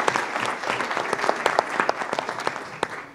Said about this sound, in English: How about a nice round of applause for these people here?